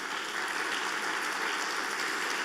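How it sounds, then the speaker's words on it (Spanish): A church congregation applauding during a Sunday morning service, a dense, steady wash of many hands clapping at once, sustained and even with no pauses, with no voices above it. "¿Quieres dar un aplauso al Rey esta mañana?"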